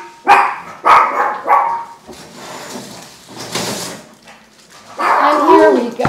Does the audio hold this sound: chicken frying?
no